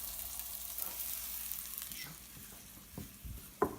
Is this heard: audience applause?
no